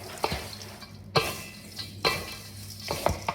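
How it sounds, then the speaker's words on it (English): Oats, seeds and cinnamon are stirred with two wooden spoons in a metal bowl, giving soft gritty scraping with about four sharper knocks against the bowl at irregular intervals, close and fairly quiet. "you just kind of get all the oats mixed with the seeds"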